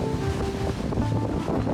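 Wind and waves out on the open ocean aboard a sailboat, a loud continuous rush of wind buffeting the microphone over the churning wash of the sea, with no voices.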